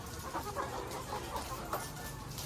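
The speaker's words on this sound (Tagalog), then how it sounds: "decal white layer chicken" Dekalb White layer hens cluck softly and continuously in cages at an egg layer farm over a dense, noisy background, with no single bird standing out.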